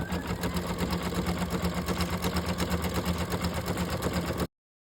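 A sewing machine stitches down fabric for a gingerbread-themed house roof, a fast, steady rhythmic whirring run that stops abruptly after about four and a half seconds.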